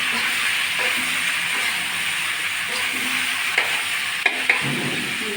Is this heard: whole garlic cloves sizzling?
yes